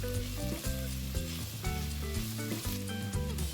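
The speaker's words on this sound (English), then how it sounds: "add the mushroom slices and cook for around 2 minutes" Mushroom slices and chopped garlic cooking in a pan for vegetable soup, a continuous close sizzle with occasional stirring scrapes, no voices.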